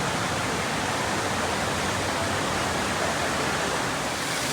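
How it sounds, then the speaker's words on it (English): A steady, dense rush of splashing water from an indoor dancing fountain show at the Gaylord Opryland Hotel in Nashville, loud and continuous with no voices. "Here's a little dancing fountain show."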